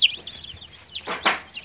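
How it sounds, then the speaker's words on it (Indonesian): Chickens being moved into a grow-out coop cluck in short bursts, a sharp squawk at the start and two louder clucks near the end, fairly close, with no talking. "Alhamdulillah ayam-ayam saya sangat bagus sekali"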